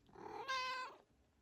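A cat gives a single clear, drawn-out meow indoors, up close, during a quiet cross-stitch session.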